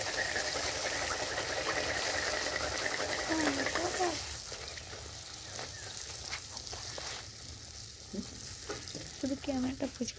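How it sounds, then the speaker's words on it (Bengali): Fuchka puris for panipuri fry and puff in very hot oil with a loud, dense sizzle that eases off halfway through. Faint voice-like sounds drift in the background. "একদম হিট তেল, ভীষণ গরম তেল, বুঝতেই পারছো তোমরা কীভাবে ফুচকাটা ফুলছে।"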